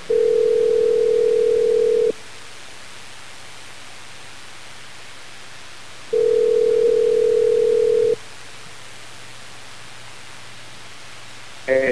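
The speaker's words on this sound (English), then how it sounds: "just hang up and we'll try Faye right away." On a radio call-in line, a telephone rings out in two long, even tones about four seconds apart, each lasting around two seconds over a faint hiss of line noise.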